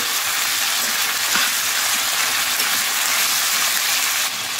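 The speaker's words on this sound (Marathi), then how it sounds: "तर याला आपण मस्त आता 5 मिनिट कमी आचेवरती फ्राय करून घेऊ।" Large-cut tomato pieces fry on low heat, giving a steady, close broadband sizzle that holds even throughout, with a few faint clicks and no talking.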